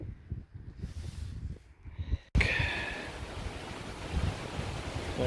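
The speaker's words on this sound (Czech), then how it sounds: "tady to pěkně fouká na takovém kopci" Strong wind buffets the microphone on a hilltop, loud, broadband and continuous, rising sharply after a brief lull and staying harsh to the end, with no talking.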